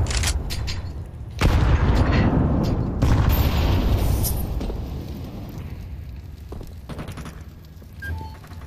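A grenade detonates in Counter-Strike 2, a loud sharp blast followed by a rumbling, crackling roar that trails off over several seconds, with a second burst soon after and faint scattered game sounds behind it.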